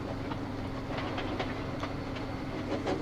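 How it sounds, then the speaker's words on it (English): A steam engine hauls a freight train, giving a faint, steady rhythmic clatter of wheels on rails with soft puffing, heard alone without voices. "he was pulling a dirty freight train"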